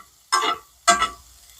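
Food sizzles in a skillet as it is stirred, two short bursts of crackling hiss about half a second apart, close and without speech.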